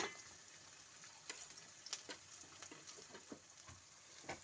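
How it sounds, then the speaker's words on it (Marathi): Onion cooking gently in oil for a Vidarbha-style sambar vadi, giving a soft continuous sizzle broken by light scraping and stirring clicks, quiet and close. "कांदा आपल्याला एकदम लालसर होऊ द्यायचा नाही, थोडं हलकंसं तेलामध्ये होऊ द्यायचं आहे."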